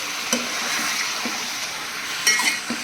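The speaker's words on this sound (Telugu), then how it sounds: "ఈ ముక్కలు, ఆనియన్స్, టమాటా అన్నీ ఇప్పుడు ఆయిల్ ఎక్కువ వేసుకున్నాం కదా, కొంచెం ఆయిల్లో ఫ్రై అవుతూ ఉంటాయి" Onion, tomato and country chicken pieces fry in plenty of oil for a curry, producing a steady close sizzle with occasional clinks and scrapes of stirring.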